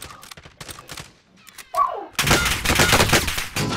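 Video game gunfire opens with sparse shots, then after a short lull becomes loud, continuous automatic fire, with voices talking over it.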